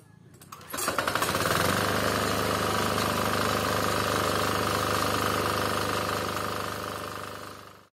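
A diesel engine on a mini garden weeder cranks briefly, catches and settles into a loud, steady, clattering run that carries on alone until it cuts off at the end.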